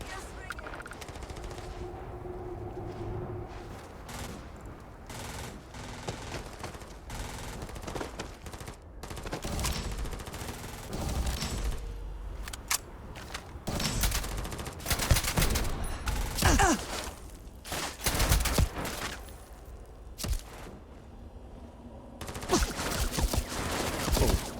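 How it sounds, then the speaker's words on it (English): Gunfire in the video game Starfield crackles in repeated bursts and single shots amid explosive impacts and a busy game soundtrack, loud and dense throughout. "Where are the shots coming from?"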